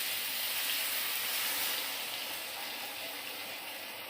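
Mustard, cumin and chili paste hitting a hot cooking pan after fried okra and potatoes: a steady, loud sizzle with a bright hiss that eases slightly as it goes on, close and with no voice.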